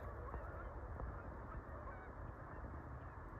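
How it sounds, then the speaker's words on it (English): Faint, distant geese honk overhead while flying in a mountain area in the evening, through a steady wash of low background noise, the calls soft and scattered rather than loud or close. "Love the sound of the geese flying."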